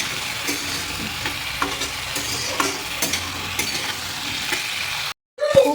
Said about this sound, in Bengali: খুব ভালো করে আলু আর পেঁয়াজ কষানো হয়ে গেছে